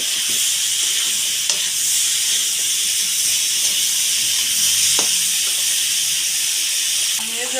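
Potatoes and dried fish fry together in a pan with a loud, continuous, close-up hissing sizzle, broken by occasional scrapes and knocks of a stirring spoon.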